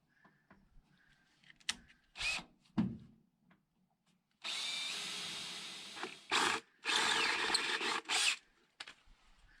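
Power drill boring a hole through the foam-backed cover of a Central Boiler CL 4030 outdoor wood boiler, with a few short bursts and then longer steady whirring runs close up, broken by brief pauses and light handling clatter.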